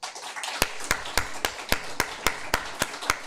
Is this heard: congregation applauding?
yes